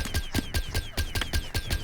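Plants fire shot after shot in Plants vs. Zombies, a rapid, regular stream of sharp popping hits, loud and close, with no talk over them.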